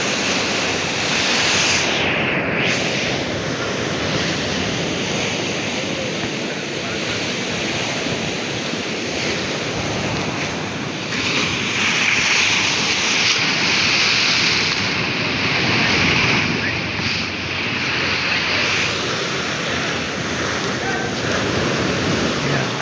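Strong ocean waves break and surge on a shore, a steady loud roar of surf with wind buffeting throughout, and faint voices now and then.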